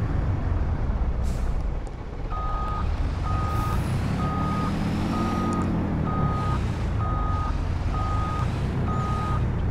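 Truck reversing alarm in the Farming Simulator video game, a steady series of loud evenly spaced beeps over a rumbling diesel engine, with a brief air brake hiss near the start.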